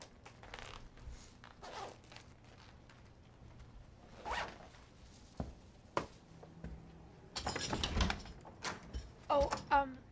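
A clothing zipper on a shirt-like garment is drawn up in quick, rasping pulls, close and clear, accompanied by rustling fabric and brief speech in the background.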